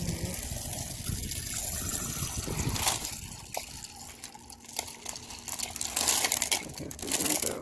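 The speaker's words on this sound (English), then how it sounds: "I have to dump out some water." Water poured and dumped from a rock tumbler barrel, a gushing, splashing pour with trickling and some rattling of stones, fairly close and continuous, with brief clatters partway through.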